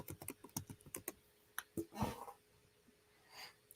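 Quick, light keystrokes on a computer keyboard, a run of close taps followed by a few scattered presses and a soft breath, with no talking.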